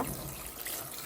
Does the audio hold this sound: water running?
yes